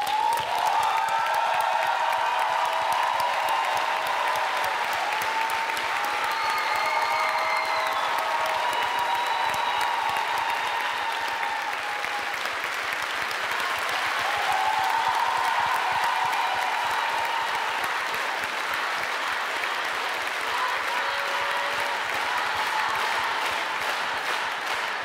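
A theater audience at a KVN televised comedy competition applauds loudly and continuously, with sustained clapping and a few cheers while music plays underneath.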